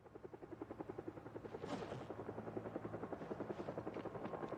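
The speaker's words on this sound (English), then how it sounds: "That's the helicopter." A helicopter passes overhead in the zombie survival game Project Zomboid, its rotor thumping in a steady, rapid rhythm that swells a little midway and stays fairly loud throughout, with no talking.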